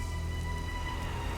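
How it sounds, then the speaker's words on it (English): Rain falls in the Sonic Frontiers video game, a dense, even hiss of raindrops on surfaces with a faint steady tonal hum beneath, constant throughout. "Oh, it's raining."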